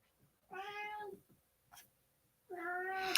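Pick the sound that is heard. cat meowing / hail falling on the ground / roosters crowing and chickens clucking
cat meowing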